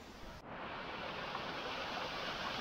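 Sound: small waterfall on a trekking trail

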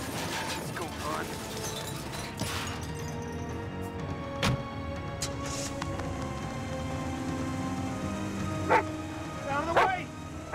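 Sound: dog barking and whimpering

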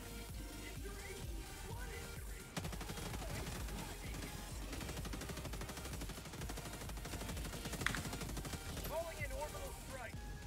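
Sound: Gatling barrage gunfire, from video game Helldivers 2

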